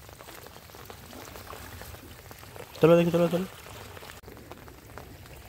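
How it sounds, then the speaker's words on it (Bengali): Rainwater trickles and drips down from above beside a Sundarbans river, a steady wet patter running throughout, briefly covered by a few spoken words from nearby people. "এই জল নামছে, বৃষ্টির জল উপর থেকে।"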